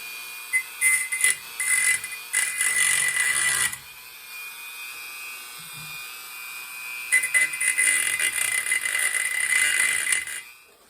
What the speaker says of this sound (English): I've got my old screwdriver in place in the vise, and I've got my Dremel with my grinding stone on it